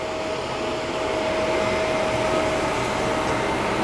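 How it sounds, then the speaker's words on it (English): A Shark vacuum pre-vacuuming carpet in a golf course villa, running as a loud steady whine with a constant pitched tone and no change in level, heard alone. "You got to go nice and slow and let that vacuum do the work."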